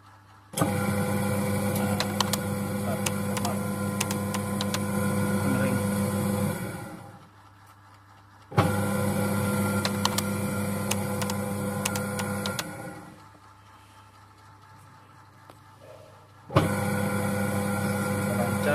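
A single-tub automatic washing machine under repair after an error runs its motor in the spin-dry mode, giving a steady whirring hum that runs for several seconds, stops, starts again, pauses and restarts.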